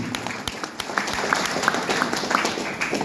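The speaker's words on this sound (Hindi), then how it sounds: "हमारे एमडी के लिए एक बार जोर ताली बजाएंगे दिल से" Audience at a company event clapping for the firm's managing director, a moderate, slightly uneven patter of hands with sharper individual claps standing out.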